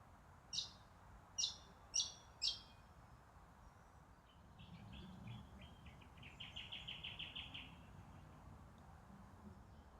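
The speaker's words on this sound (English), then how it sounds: "you can hear the birds around here." Four bright chirps sound in a steady rhythm, then a faster, fainter run of trilling notes, in an urban woodland with a low hum of distant traffic underneath.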